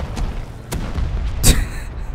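Tank exploding in the Rust video game, a sharp booming blast near the midpoint after a couple of smaller thuds, over a low background rumble.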